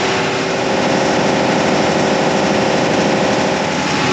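An engine idles near 1500 rpm at 67 degrees, a loud, steady drone with a constant hum, close by and without any voices over it.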